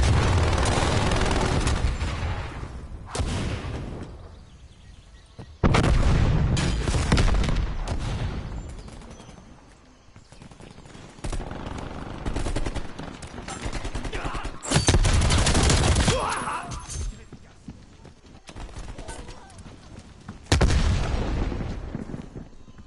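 Sustained bursts of gunfire fill a Call of Duty: Black Ops Cold War campaign fight as a teammate comes under attack, loud rapid volleys broken by brief lulls and heavy booming impacts, with no talk over it.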